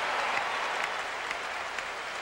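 A big crowd at Busch Stadium applauds steadily through a Giants–Cardinals baseball game, a dense, even wash of clapping heard from a distance.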